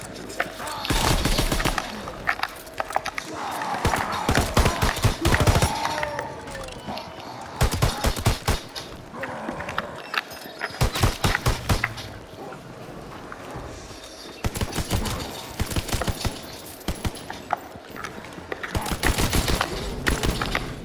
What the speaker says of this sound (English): This is a sniper, but when it's pack punch, it goes full auto